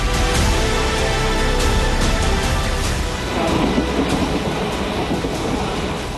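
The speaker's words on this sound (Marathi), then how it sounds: "कल्याणवरून सीएसएमटीकडे पहिली रेल्वे रवाना झाली" A Mumbai suburban local train pulls out of Kalyan toward CSMT, its steady rumble and clattering wheels loud and continuous throughout, with no talk over it.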